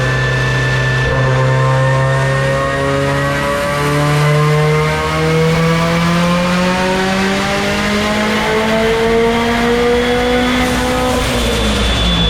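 A Mitsubishi Evo with an eBay turbo screams through a full 4th-gear dyno pull, the engine note climbing steadily in pitch for about eleven seconds, loud and close, before dropping off at the end.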